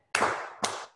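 Two sharp group claps a half-second apart, close and fairly loud, as people clap along to a song during a Sephardic culture class.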